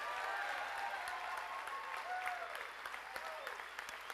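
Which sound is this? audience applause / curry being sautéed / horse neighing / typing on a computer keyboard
audience applause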